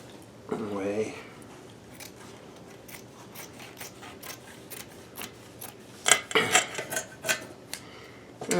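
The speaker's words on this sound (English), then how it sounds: "I'll just snip away" Scissors snipping through fabric at a sewing table, a series of crisp, quick cuts that turn into a louder flurry of snips near the end, with a voice briefly speaking early on.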